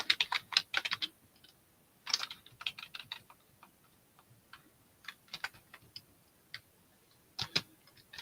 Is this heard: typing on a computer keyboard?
yes